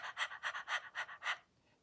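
A voice imitates panting: six quick, breathy huffs in a steady rhythm, close and fairly quiet, then silence.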